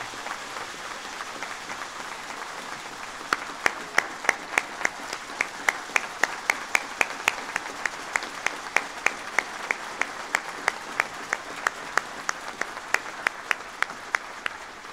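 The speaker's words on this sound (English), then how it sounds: "let's give them a big round of applause, all three" Applause from the audience at the 2008 Baldrige Award ceremony, a soft wash of clapping at first, then sharp, evenly spaced individual claps ringing out over it for the remaining ten seconds or so.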